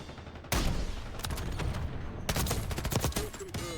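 Warzone gameplay with an AMR rocket sniper conversion kit firing, loud blasts and rapid crackling gunfire bursts over continuous game noise, with no speech.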